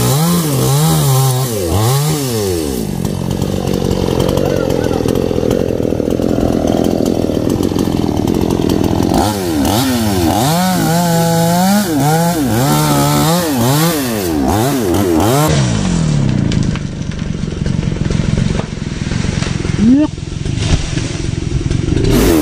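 A chainsaw cuts through a kapok tree in 37°C heat, its engine roaring steadily and loud throughout with rising and falling pitch as the revs change under load, a brief lull near the end.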